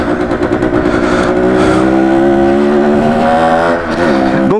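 A 1978 Yamaha DTMX 125cc motorcycle engine running loudly and close, holding a steady buzzing pitch while riding, easing off slightly just before the end.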